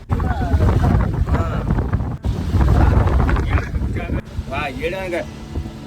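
Strong storm wind buffets the microphone with a heavy low roar, loud and gusting throughout, while someone talks over it.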